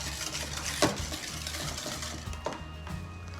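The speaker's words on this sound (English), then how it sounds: "Okay, mix this all up." Utensil stirring and tossing a broccoli and cauliflower salad with cheese in a bowl, soft scraping and clinking taps, quiet and close.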